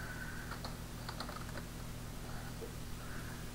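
A computer keyboard tapped in a quick short burst while a folder name is typed, a few light clicks near the start over a steady low hum, then quiet.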